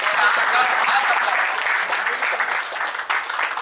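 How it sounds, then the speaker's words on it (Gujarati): Loud, sustained applause from a crowd at a matchmaking gathering in Surat, dense clapping continuing throughout without a break. "જોરદાર તાળીઓ ભાઈ."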